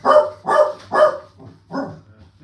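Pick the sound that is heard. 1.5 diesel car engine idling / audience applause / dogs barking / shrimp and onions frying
dogs barking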